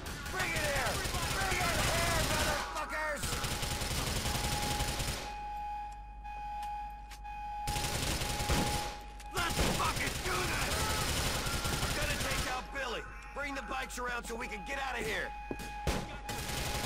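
Bursts of AK assault rifle fire in GTA IV: The Lost and Damned, rapid automatic volleys coming in long stretches separated by short pauses, mixed with game sounds and someone talking over parts of it.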